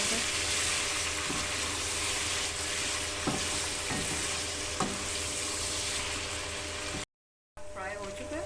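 Mutton frying in a pot for pulao: a steady, close sizzle with occasional stirring scrapes, briefly cutting out near the end before the frying noise resumes.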